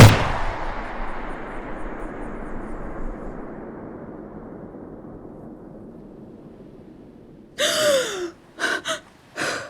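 A gunshot in an audio drama as a woman puts a gun to her own head and fires: one sharp blast at the start, its echo decaying over several seconds, then a few short loud gasps near the end.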